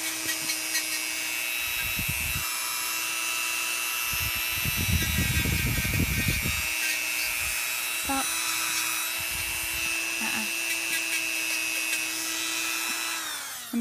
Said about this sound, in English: So I use a Dremel, and I just, it's got to be variable speed.